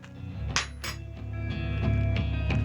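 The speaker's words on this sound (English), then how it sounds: "To my bowl, I'm going to crack in 2 eggs" Eggs cracked into a mixing bowl for a chocolate cake batter give a couple of sharp clinks and taps on the bowl's rim, close and clear over a steady low kitchen hum.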